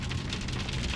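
Steady rain falls in a storm, a dense broadband hiss with a low rumble underneath, constant and fairly loud throughout the short stretch, with no voices.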